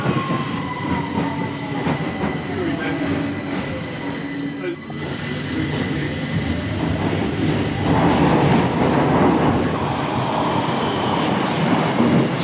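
A London Underground Victoria Line train rattles along with a continuous loud roar, rhythmic clatter of wheels and occasional metallic squeals.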